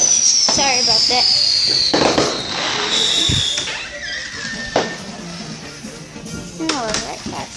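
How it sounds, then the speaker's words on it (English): Fourth of July fireworks heard from inside a house, with a whistling rocket and scattered pops and bangs, some muffled, as a person talks over them. "Look at the fireworks."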